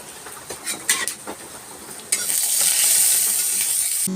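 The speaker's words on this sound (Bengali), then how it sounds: "তেল গরম করে জিরে ও শুকনো লঙ্কা ফোড়ন দিলাম" Cumin seeds and dried red chilies tempering in hot oil for a mung dal and vegetable dish: a few scraping clinks first, then a sudden loud crackling hiss that holds steady to the end.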